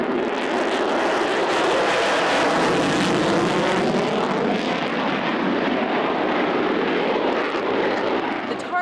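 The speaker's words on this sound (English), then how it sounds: "the skies were filled with the thunderous sounds of planes and jets for the annual air" A loud, continuous roar of aircraft engines at an air show at Burke Lakefront Airport, a broad sustained rumble that swells and slowly fades as planes and jets pass overhead.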